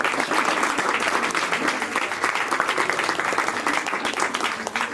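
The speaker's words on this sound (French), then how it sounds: "j'appelle Agnès Poumbrol, qu'on peut applaudir évidemment." Loud, sustained applause from an audience at a student talent contest, dense clapping that continues evenly throughout with no pauses.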